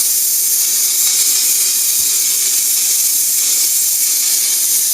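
Hot water from a tap fed by a newly repaired electric hot water tank rushes with air in the line, a steady broad hiss and spray that continues unbroken and alone.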